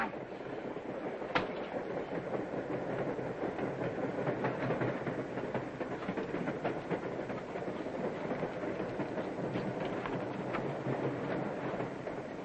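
Passenger train running on the rails in a 1940 film, a steady, fairly faint rumble with rhythmic clickety-clack of wheels continuing throughout, without talk.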